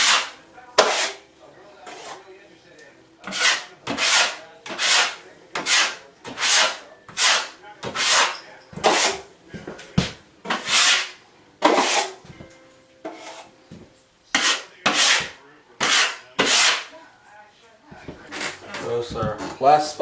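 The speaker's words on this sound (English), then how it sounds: "you want to try to make sure you get it scraped off" Spackle scraped and sanded on drywall in repeated rhythmic strokes, about twenty close, loud rasping passes with brief pauses between them, and a voice talking faintly beneath.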